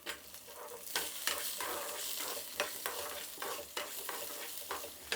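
Grated ginger and green chilies sizzle in tempering oil with cumin and urad dal, a crackling sizzle broken by clattering bursts of stirring spoon strokes, close and with no voices.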